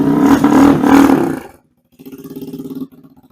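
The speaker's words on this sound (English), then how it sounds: "Let's go ahead and fire it up just to show you guys." A Boom Vader 125 Honda Grom clone motorcycle engine roars loudly at first, cuts to near silence, then settles into a steady, throbbing low idle close by.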